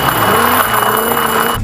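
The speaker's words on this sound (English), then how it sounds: "Oh, good launch of the BMW." A BMW launches off the line in a drag race against an old Corvette and a new Hyundai, its engine roaring loudly and steadily, then cutting off abruptly at the end.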